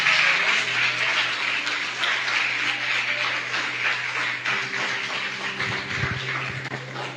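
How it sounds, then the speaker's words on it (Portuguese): A church congregation applauds steadily and loudly during worship, a dense wash of clapping that fades slightly toward the end. "Eu te convido a aplaudir a Jesus com glória a Deus e aleluia"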